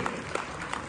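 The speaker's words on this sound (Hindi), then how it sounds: "ताली एक जोर से" Audience applause rises at a charity fundraising auction in Texas, a brief burst of crowd clapping with a few sharper claps standing out, mixed with room noise.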